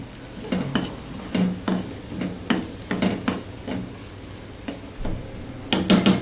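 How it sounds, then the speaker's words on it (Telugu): Raw prawns frying with tender tamarind leaves in a pan for a traditional dish, a low sizzle broken by repeated scraping stirs at an irregular pace, close and clear. "ఇంకా అలా వేపుకోవడమే చక్కగా ఎగిరిపోయే వరకు బాగా ఉడికిపోయే వరకు వేగు వేపుకోవాలి"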